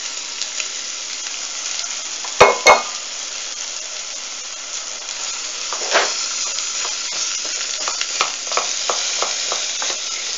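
Onions fry in a pan with a steady soft sizzle, broken by a couple of sharp knocks early on and light scraping stirs later, close and unaccompanied by voices.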